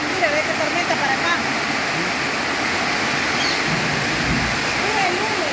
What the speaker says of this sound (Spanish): Mire, ve qué tormenta para acá.